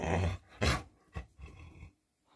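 A dog growls and pants close by in a few short bursts with brief gaps between, ending in quiet.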